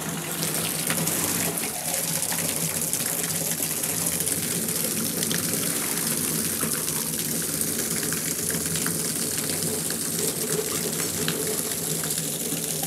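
Spring water pours from a pipe set in stone in a steady, continuous splashing gush, close and constant throughout with no voices.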